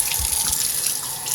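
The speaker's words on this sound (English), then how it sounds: "turn the water on," Water runs from a kitchen tap down into a garbage disposal: a steady, close rushing splash with no pauses and no voices.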